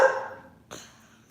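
Pet dogs barking indoors, one loud close bark followed by a shorter, fainter second bark.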